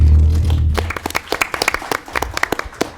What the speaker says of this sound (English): can we also give another round of applause for our moderator?